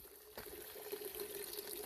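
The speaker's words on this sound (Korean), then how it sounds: "물 흐르는 소리가 나고" Steady water flowing and trickling at a weekend farm plot in the rain, a continuous wash of liquid sound at moderate distance with no voices.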